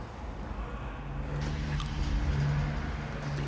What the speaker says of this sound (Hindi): तो ये जी इंजन हमारा स्टार्ट हो गया।